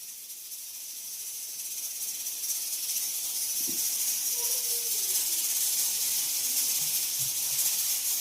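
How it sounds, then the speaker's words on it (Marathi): A pressure cooker on a home stove lets out a steady, broad hiss of escaping steam that builds slightly and runs throughout, with faint low tones drifting underneath. "तिकडं कुकर शिट्ट्या मारतोय."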